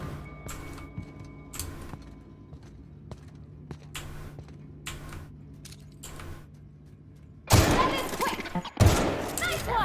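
Gunfire from an upgraded gun in the video game The Outer Worlds, a series of sharp separate shots over low background hum, then a louder, denser burst of firing toward the end.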